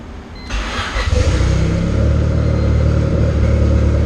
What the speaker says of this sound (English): I'll fire this thing up for you guys